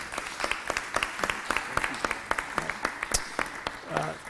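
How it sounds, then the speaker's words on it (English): An audience applauds Dr. Ashford and the discussants at the close of a conference session, with sharp, distinct claps from a modest crowd rippling steadily for about four seconds. "let's give one final round of applause to Dr. Ashford and our discussants"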